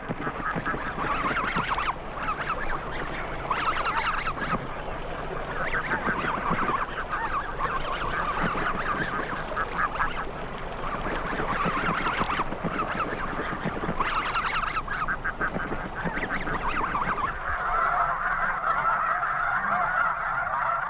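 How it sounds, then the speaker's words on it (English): A large flock of snow geese honks continuously, a dense chorus of overlapping calls that persists throughout with no pauses. "When the wild geese migrated south"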